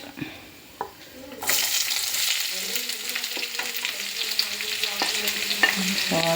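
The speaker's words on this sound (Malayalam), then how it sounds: "ഇതിലോട്ട് നമുക്ക് സവാള ഇട്ടു" Sliced onions sizzle in hot oil in a pan while a spoon stirs them, giving close, steady frying with scattered scraping clicks.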